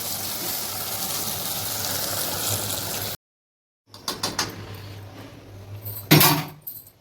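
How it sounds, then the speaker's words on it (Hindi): Water poured into a bowl of thick homemade curd batter for bhajia kadhi gives a steady close rush for about three seconds; after a pause come lighter clinks and scrapes of utensils, with one sharper knock. "अपन थोड़ा पानी की मात्रा मिला लेते हैं संगवारी।"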